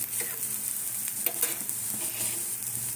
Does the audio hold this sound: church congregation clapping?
no